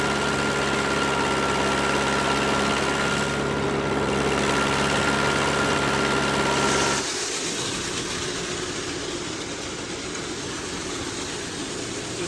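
Grain bin auger machinery drones loud and steady with a low hum, then shuts off partway through, leaving a quieter rumbling run-down.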